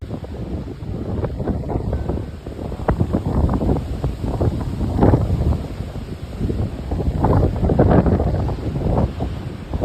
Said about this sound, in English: So it is very windy here in Fort Lauderdale.